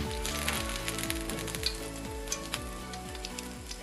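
Fish fries in hot oil in a pan for sarciadong isda, giving a continuous close sizzle sprinkled with small crackles and pops, heard alone without any voices.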